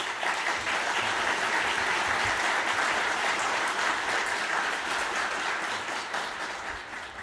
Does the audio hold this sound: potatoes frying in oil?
no